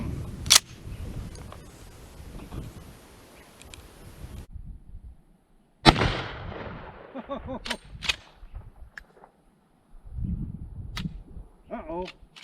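Two sharp, loud gunshots from a Colt Lightning large-frame revolver fired outdoors at jugs and a squash, the first early and the second after a long quiet gap, each followed by a ringing tail, with some brief handling noise between.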